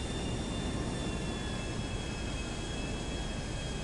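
A jet aircraft in the video game GTA 5 drops out of the sky, a loud, steady rushing roar of engine and wind that holds unbroken throughout with no voices.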